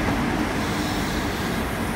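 CrossCountry HST train rolling into Exeter St David's station, a steady low rumble and engine drone close by, continuous and even for two seconds with no voices.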